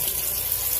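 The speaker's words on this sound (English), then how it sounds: "I'm going to pour some water in here." Water being poured into a cooking pot while preparing a home Sunday dinner, a brief steady rushing pour heard close and clear with no talk over it.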